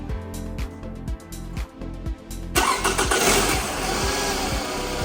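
A 2009 Scion tC engine cranks with a rhythmic starter chug for a few seconds, then catches and settles into a loud, steady idle up close, with no talking.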